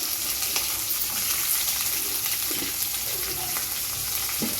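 Onion and green chilli go into hot oil with crackled mustard seeds and cumin, giving a dense, continuous loud sizzle close up, with occasional light stirring knocks underneath.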